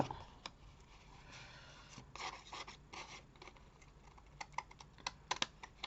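Paper is being cut for a handmade card from leftover scraps, with soft rustling and a series of crisp, irregular snips close up, getting quicker toward the end.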